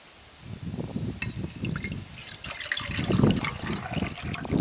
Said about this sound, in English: I'm going to pour that water in this container.